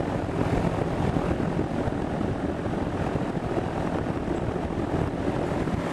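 Wind buffets a microphone outdoors beside an HVAC unit during an American Standard compressor replacement, a dense, continuous low rumble and roar that stays loud and unbroken, with no voices.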